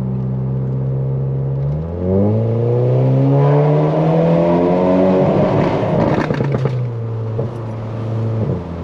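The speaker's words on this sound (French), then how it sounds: "Je vais juste mettre un kickdown, mais en boîte auto" Loud car engine under hard kickdown acceleration in an automatic gearbox, heading into a tunnel, revs climbing steadily with a gear change and rising roar reverberating through the tunnel, no talk.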